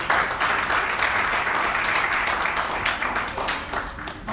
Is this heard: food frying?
no